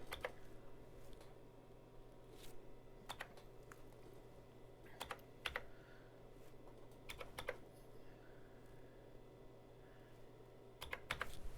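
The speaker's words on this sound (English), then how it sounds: "I'm going to type that command." A command is typed on a computer keyboard while checking system details on an IBM AS/400 machine. It comes as faint, close key clicks in short uneven bursts over a low steady hum, with no speech.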